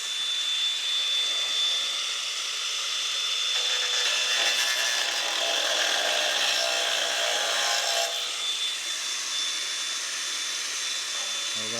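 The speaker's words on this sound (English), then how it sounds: "I want to cut these mounting brackets off anyway" Metal mounting brackets being cut off a first-generation Toyota 4Runner with a power tool, a loud, continuous abrasive grinding close by that swells and eases over several seconds.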